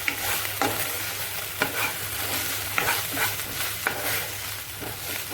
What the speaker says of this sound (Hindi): और इस पेस्ट की रॉस में जाने तक हम इसको भूनेंगे, यानी कि तकरीबन 30 सेकंड